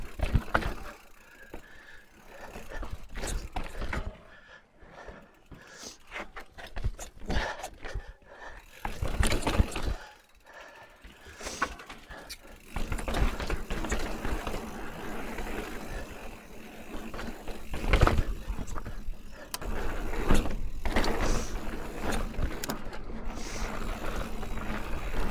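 A 2022 Santa Cruz Chameleon mountain bike ridden hard on a trail: tyres roar and crunch over dirt, the chain and freehub rattle and tick, and the noise swells and drops through corners, close and continuous with no talk.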